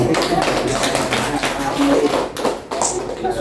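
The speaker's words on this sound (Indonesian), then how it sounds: "Tepuk tangan." Students in a classroom clap their hands together, a dense, close patter of many claps running throughout, with voices mixed in.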